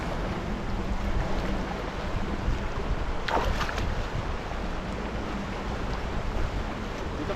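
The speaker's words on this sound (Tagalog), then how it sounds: "Lakas ng agos dito." A strong current flows past a small boat, a continuous loud rush of water and wind with a brief splash partway through and no talking.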